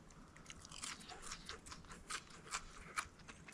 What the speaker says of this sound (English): before we bite into that trout, I just want to see how it breaks open